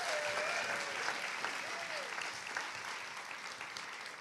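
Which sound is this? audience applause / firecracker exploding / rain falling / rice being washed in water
audience applause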